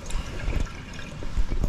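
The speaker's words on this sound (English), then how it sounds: "So I'll fill the sink all the way up, make sure I'm fully flushing." Hot soapy water runs into a blocked kitchen sink, an irregular gushing and splashing with low rumbling surges, close and moderately loud throughout.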